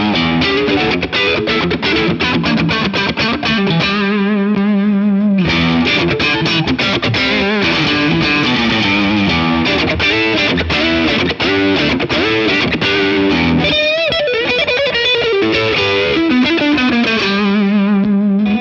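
Keipro signature electric guitar in the in-between pickup position, played through distortion and effects, with continuous driven chords and fast riffing at a loud, steady level and no talking.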